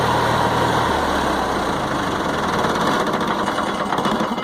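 A 2-cylinder gasoline motorhome generator runs loud and steady at a campsite, with its low drone dropping away partway through as it is shut off, leaving a rough rattling hum.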